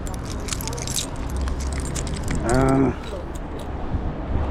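A wrench turns a bolt up close, with a brief creaking metallic rasp near the end amid continuous handling and rattling noises, with faint talk in the background.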